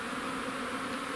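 Honeybees flying near the hive in early spring sunshine, a close, steady buzzing drone without break for a brief moment.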